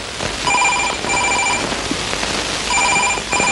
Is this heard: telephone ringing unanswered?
yes